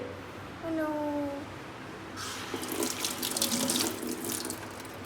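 Fresh mint leaves are rinsed under a kitchen tap. After a quiet start, the water gushes and splashes at moderate volume for the second half.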